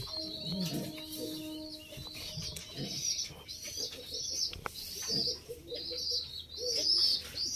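A male and female pair of pet pigeons at night give soft repeated coos and chirps, close by, with faint rustling and wing movement between calls.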